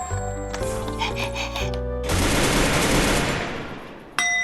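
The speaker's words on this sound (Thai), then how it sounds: "ผมลองปืนน้องแจ็คกี้หน่อยดิ ว่าปืนมันมีเสียงแ บบอะไรแปลกๆไหมหรือว่าเป็นซาวเดิมเลยคุณผู้ชม" Video game music plays, then a sharp burst of rapid gunfire erupts for a second or two and trails off, followed by a brief electronic tone.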